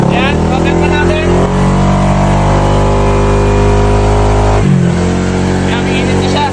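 A car engine running with no coolant is held at full throttle, giving a loud, close, continuous revving drone whose pitch dips and climbs again near the end.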